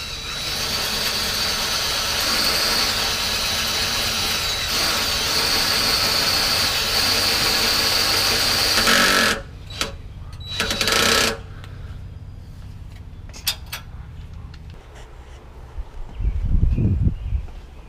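A power driver runs self-tapping screws into a bracket on a Land Cruiser, with a long, loud, steady whirring drive and then several shorter bursts with pauses between them, finishing on a low thud.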